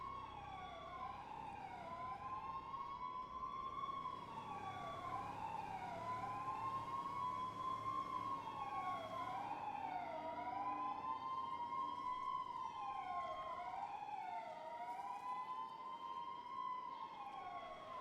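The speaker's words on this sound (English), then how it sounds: "Why does it sound like so many sirens?" Several overlapping police sirens from the video game GTA Online wail continuously, rising and falling in staggered cycles, loud and steady throughout with no talking.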